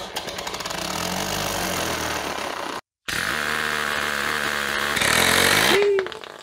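A 3D-printed opposed-piston engine runs on compressed air with a loud, buzzing mechanical rattle, cutting out briefly, then revving higher before winding down to silence.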